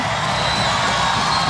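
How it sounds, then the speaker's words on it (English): A volleyball arena crowd at a Hawaii Rainbow Wahine match against BYU, cheering and whooping steadily and loudly in a dense wash of voices. "Now this crowd is coming to life."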